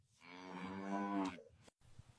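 One long, drawn-out cow moo sound effect, close and full-bodied, rising and then breaking off into near silence with faint background noise.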